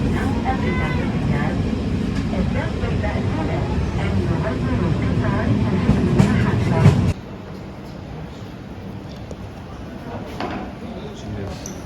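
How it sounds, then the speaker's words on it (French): Riding aboard Morocco's high-speed TGV train, a steady loud low rumble of the moving carriage with busy chatter of voices, then a sudden drop to a quieter hum partway through. "on prend le TGV marocain pour aller à Tanger"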